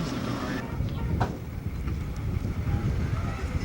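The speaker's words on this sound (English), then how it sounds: "Nice wind I'm gonna get. Yes. Nice wind noise." Steady wind buffets the microphone aboard an open parking-lot tram heading into Epcot in Orlando, a loud continuous rushing roar with faint rumble underneath and brief louder gusts.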